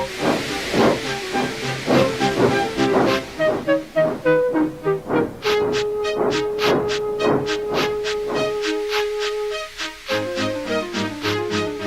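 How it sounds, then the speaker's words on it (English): A steam engine hisses and puffs in rhythmic bursts under a sustained whistle-like tone, with musical tones running alongside. "with much noise and blowing of steam, got ready to back onto the train"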